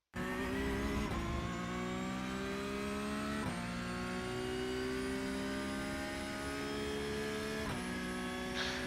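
A Porsche Cup race car engine at Laguna Seca drones loud and steady from close by, its pitch climbing through gears with brief dips at each shift, heard alone without talk.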